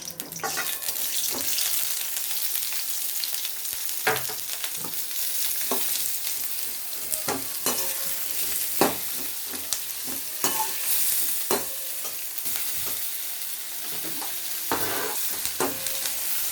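Finely chopped onions sizzle and crackle in hot oil for onion chutney, with occasional stirring scrapes against the pan, steady and close throughout.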